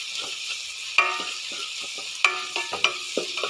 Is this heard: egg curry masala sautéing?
yes